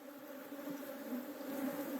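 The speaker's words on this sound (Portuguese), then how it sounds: "As abelhas vão passando através da tela." Honeybees buzzing around a beekeeper as a hive frame is sieved and the bees pass through the screen, a close, steady droning hum that swells slightly toward the end.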